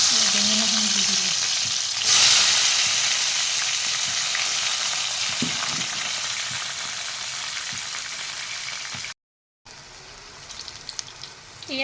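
Eggplant pieces sizzle steadily in hot refined oil in a kadai, a close, continuous hiss and crackle with faint stirring and a brief cut-out near the end.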